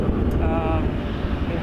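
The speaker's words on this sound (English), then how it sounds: "That's a plane though." An airplane passes at Toronto Pearson airport, a broad roaring rumble with a brief whining tone, short and fairly loud, heard in cold windy conditions.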